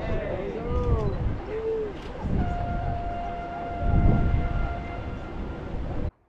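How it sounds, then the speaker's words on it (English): A starting gun and a long horn signal the start of a sailing race in the RORC 600 off Antigua: a steady, sustained horn tone with broadband bursts, over constant wind and engine-like background noise. "just before their race starts, they will get a gunshot and a longer horn"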